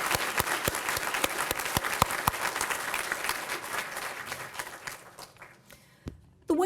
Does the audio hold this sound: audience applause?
yes